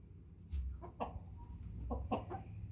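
Chickens cluck nearby in a farm setting, a few short, soft bursts spread unevenly over a low background rumble.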